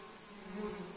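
Calm swarm bees crowd around a cardboard trap hive in a forest, giving an even, close buzzing drone that swells slightly midway, with no talking.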